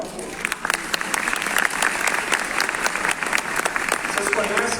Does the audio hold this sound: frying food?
no